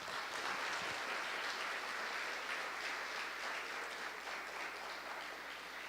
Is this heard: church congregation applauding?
yes